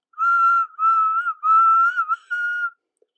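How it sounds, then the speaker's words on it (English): Steam engine whistles sounding together with music, four clear sustained tonal blasts in a row, each lasting about half a second with short gaps, loud and close with no talking. "The engines punctuated the music with their whistles."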